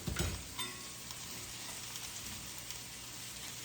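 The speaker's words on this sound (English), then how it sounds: "A little bit of oil in the pan. I'm using a cast iron skillet," Oil sizzling in a cast iron skillet over medium heat, a steady soft hiss with a brief clatter at the start, quiet and continuous.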